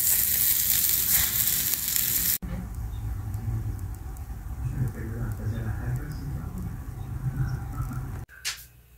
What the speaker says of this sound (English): So I'm cooking 1/2 of the brats at a time so I don't end up with a big flame.